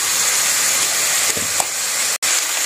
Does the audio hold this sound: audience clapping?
no